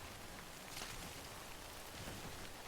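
Steady rain pours in a Death Stranding game world, a dense, even hiss of drops on surfaces that fills the scene without pause, with no voices present.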